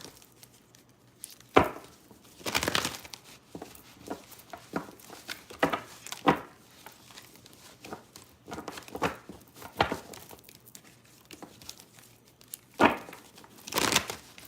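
Tarot cards being shuffled by hand during a live reading, soft papery riffles and bursts of card slaps arriving irregularly, close and fairly quiet with pauses between.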